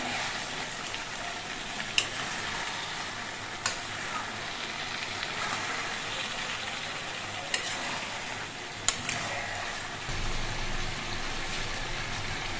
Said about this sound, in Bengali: আর পুঁই শাকগুলো কিন্তু নেড়ে দিতে হবে, নাহলে আবার নিচে লেগে যেতে পারে।